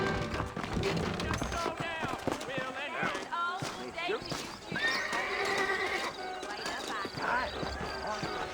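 Saddled horses in Red Dead Redemption clip-clop and neigh repeatedly at close range, with whinnies rising over hoofbeats while a voice talks throughout.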